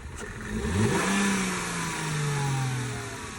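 A BMW F10 twin-turbo car engine revs up sharply, then holds a steady raised drone with slight dips, loud and close, no voices.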